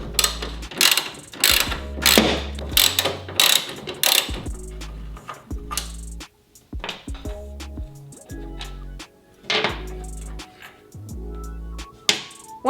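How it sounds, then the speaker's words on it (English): A ratchet wrench works 10mm bolts off a Toyota Tacoma taillight, giving loud, close clicking bursts that start and stop in uneven spells, with brief pauses between turns and no speech. "I need to remove just this 10mm bolt, this 10mm bolt"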